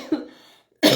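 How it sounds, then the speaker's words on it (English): A single close cough bursts out, followed by a short pause and then another harsh cough. "I just keep coughing."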